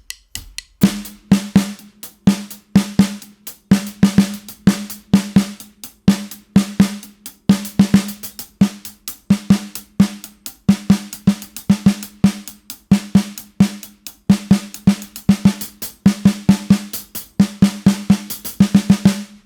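A drum kit plays a repeating practice phrase during a drum lesson, with crisp snare and cymbal hits over a steady low drum pulse, close and loud with no talk.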